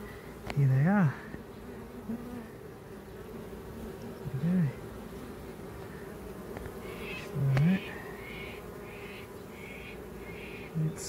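Bees hum in a hive built inside a chicken coop, a steady close drone with louder buzzing swells as insects fly near, while several short sharp sounds rise over the hum.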